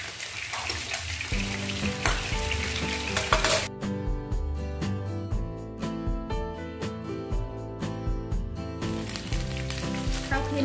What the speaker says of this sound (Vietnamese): Sau khi mà mình đã chiên cá nó hơi vàng như da và nó xém rồi nha